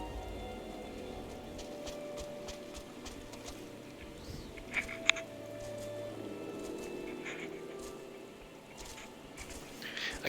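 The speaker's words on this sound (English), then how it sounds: "Let's see how far the rainstorm extends." A rainstorm in the video game Final Fantasy 15 makes a steady, dense hiss of falling rain with scattered drips and faint clicks, the wash holding evenly throughout.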